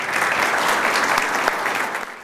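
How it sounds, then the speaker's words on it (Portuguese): A dense round of audience applause at a formal lunch meeting, many hands clapping steadily and close by for a couple of seconds before fading away. "recebam com aplauso"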